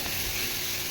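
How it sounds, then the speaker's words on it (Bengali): Cabbage chorchori curry, already boiled and with its water cooked down, sizzles while being fried in a pan. The short, steady hiss is fairly close and continuous throughout. "এখানে আমার বাঁধাকপির চচ্চড়িটা সেদ্ধ হয়ে গেছে, জল কমে যেতে আমি এবার ওটাকে ভালো করে কষিয়ে নিচ্ছি"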